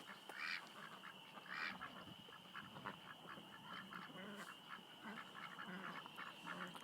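Ducks quacking and honking over a dense outdoor evening ambience, a couple of louder calls standing out near the start among distant chatter.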